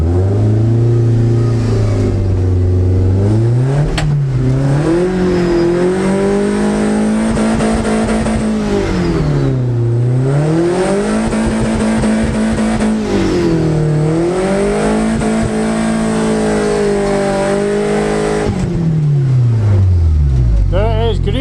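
BMW E46 with an M42 engine doing a burnout in a burnout box, the engine revving hard in long sweeping rises and falls with a harsh, continuous roar, loud and close throughout.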